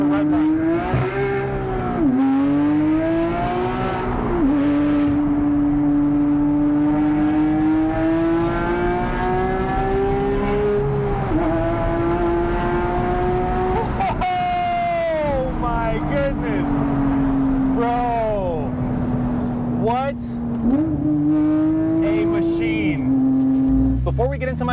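A Porsche 992 GT3 RS engine, 2024 model, revs repeatedly toward redline, its loud high-pitched wail climbing and falling in long sweeps, close by, with talking over parts.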